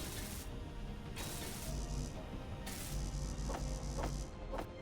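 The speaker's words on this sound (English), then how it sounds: "And weld some of these up." Welding tool at work in Space Engineers, a steady broadband hiss with faint mechanical ratcheting and a few short bright crackles, continuous over the whole stretch under game ambience.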